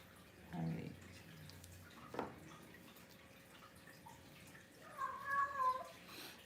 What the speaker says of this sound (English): Don't mind my cat. He's talking to the other cats outside.